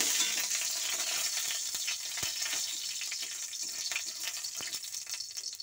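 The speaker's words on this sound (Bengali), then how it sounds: "এখানে আমি তেল গরম হয়ে গেছে, লঙ্কা ফোড়ন দিয়ে দিচ্ছি" Panch phoron five-spice mix and dried red chili sizzle steadily in hot oil for a chutney, a bright continuous crackle with scattered pops and small stirring clicks, close and fairly quiet, no talking.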